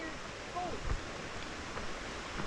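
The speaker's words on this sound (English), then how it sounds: "we're starting off with a little creek crossing." Steady broadband rush of creek water flowing at a trail crossing near Louis Lake Trail outside McCall, a constant close wash filling the whole stretch with a brief low thump partway through.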